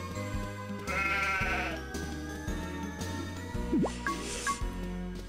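Sheep bleating in the farming video game Harvest Moon Magical Melody, a few wavering bleats over a steady looping game melody with plucked notes and chimes, no talk.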